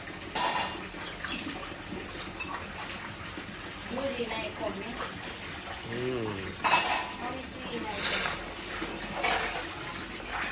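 Dishes and cutlery clink and scrape in a sink with water running, in irregular bursts of clatter, and a brief murmur of voices partway through.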